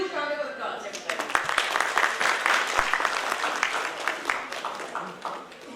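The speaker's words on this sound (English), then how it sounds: "A huge round of applause, everybody." Audience applause at a social work conference in Northeast India, a dense, steady round of clapping from a large crowd that swells and holds for several seconds in a hall.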